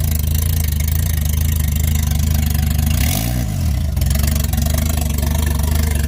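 A Toyota 1JZ engine with a big turbo upgrade in a GS300 idles steadily and loudly right after its first start, with a brief dip and swell in the rumble midway and no talk.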